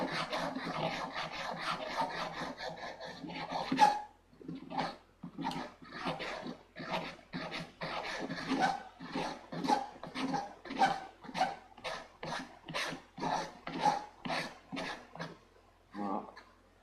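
Wooden spacers for a model aircraft are sanded by hand on an angled block in small circular strokes, giving a steady series of rhythmic, close scratchy rasps with brief pauses between them.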